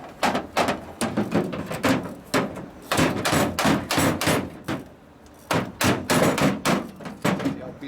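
Loud, close hammer strikes beat on Indian motorcycle parts during a 2001 Gilroy Indian rebuild, landing in quick irregular clusters of metallic thuds with a short gap before another run of blows.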